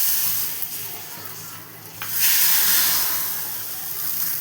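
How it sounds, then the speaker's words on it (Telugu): Hot tempering of fenugreek and asafoetida poured into simmering dal, giving a steady close hiss and sizzle that flares up loudly about halfway through and then keeps crackling. "ఈ పోపు వేగిపోయింది, దీన్ని దీంట్లోకి వేసేసుకోవాలి."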